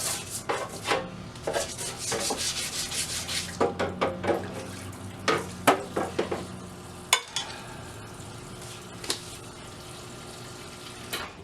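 Rust being scrubbed off a part from a vintage metal tackle box, giving irregular rubbing and scraping strokes in quick bursts, louder early on and then sparser, close up with no talking.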